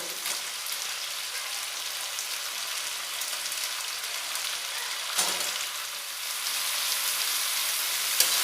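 Pumpkin and carrots fry in a pan with a constant dense sizzle close by, marked by a couple of scraping stirs partway through and near the end.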